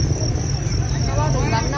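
Field crickets on a Vietnamese cricket farm chirp in a steady, high-pitched trill, close and constant through a short moment, with a faint voice underneath.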